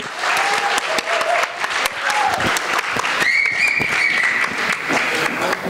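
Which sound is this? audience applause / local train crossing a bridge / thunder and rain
audience applause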